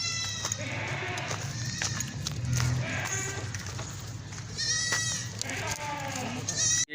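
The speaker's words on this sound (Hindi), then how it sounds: "एक टापरी बकरी लेके हाजिर हुआ हूँ।" A goat bleats repeatedly at a livestock market, loud wavering cries against a steady crowd murmur and other animals, with someone talking nearby.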